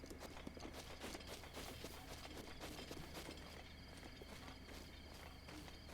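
Video game horse hooves clip-clopping at a steady walking pace in The Legend of Zelda: Breath of the Wild, a continuous rhythmic patter under a dense, busy game soundscape.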